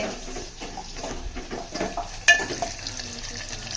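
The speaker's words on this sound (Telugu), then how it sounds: "ఉల్లిగడ్డలు అయితే వేగినాయి అల్లం వెల్లుల్లి పేస్ట్ వేసుకుంటున్నా" Sliced onions with ginger-garlic paste frying in a pan for a soya chunk curry: close, crackly sizzle with stirring scrapes and one sharp clink of a utensil against the pan.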